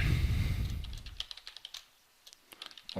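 Keys clatter on a computer keyboard in quick, irregular bursts of close, light taps with a short pause midway, following a fading low rumble at the start.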